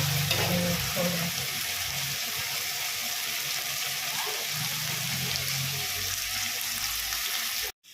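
Chana dal, mint, tomato, dried red chillies and garlic sautéing in a pan give a steady, close hiss of sizzling that runs without a break, with faint low clatter underneath and a sudden stop at the very end.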